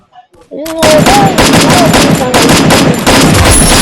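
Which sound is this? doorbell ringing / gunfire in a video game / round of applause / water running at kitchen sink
gunfire in a video game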